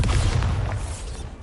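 A Bombarda blasting spell goes off in Hogwarts Legacy, a single heavy, low boom that rumbles briefly and then fades.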